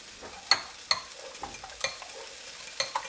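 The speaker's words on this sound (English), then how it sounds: "And then whisk it." Eggs and yogurt are whisked in a bowl for harissa yogurt scrambled eggs. The whisk makes sharp, irregular clinks and taps over about three seconds, alone and fairly close.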